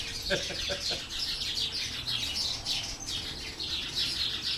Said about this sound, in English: The birds even like it. The birds are impressed.